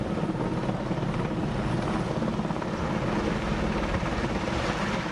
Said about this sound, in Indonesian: Salah satunya menggunakan helikopter waterbombing.